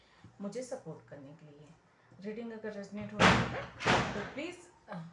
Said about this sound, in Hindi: दरवाजे की आवाज़ आई, उसके लिए सॉरी।